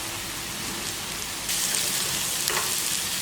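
Coriander powder and chili powder stirred and fried in a pan, a steady close sizzle and hiss that grows louder partway through, with faint scraping; no talking.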